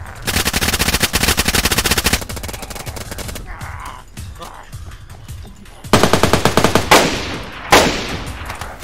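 Automatic gunfire in the DayZ video game during a King of the Hill match, loud rapid bursts of shots in long strings with a pause and softer impacts in between, then more bursts and a single heavy shot.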